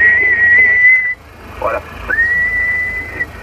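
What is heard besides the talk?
person whistling into a CB radio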